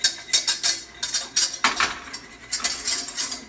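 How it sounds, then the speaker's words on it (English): A metal whisk stirs milk into broccoli cheddar soup in a pot, making rapid, rhythmic scraping clinks against the pot walls. The clinks are fairly close and continue steadily with no talking. "And now I'm gonna open my milk, get it ready. Start whisking this."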